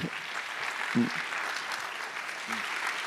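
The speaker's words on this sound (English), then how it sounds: "I want you all to give a much deserved hand of applause to Audrey Tang, hacker WizKid." A crowd claps steadily in sustained applause, dense and even throughout, with a couple of faint low thumps underneath.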